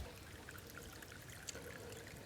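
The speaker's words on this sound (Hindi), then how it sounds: "पहाड़ों से झरना चल रहा है। ये देखिए ऊपर से पानी आ रहा है चट्टानों से।" Mountain waterfall water trickling and pouring down over rocks into a pool, a steady, moderately close wash of flowing water with no talk.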